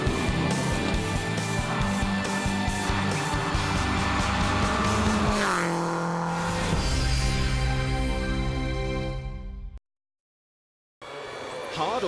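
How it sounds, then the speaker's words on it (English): A Subaru Impreza World Rally car being driven hard: loud, sustained engine roar with shifting pitch as the revs change, dropping after a gear change, then a sudden cut to silence before the engine returns. "I hope you enjoyed the time in my Subaru Impreza World Rally car."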